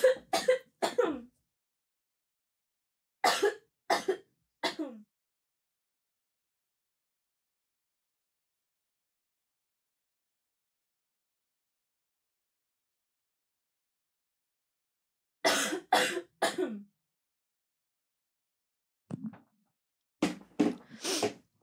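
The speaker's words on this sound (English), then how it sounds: "I am holding back a cough." Several bursts of harsh coughing and throat clearing, close, in short clusters of two or three separated by long silences.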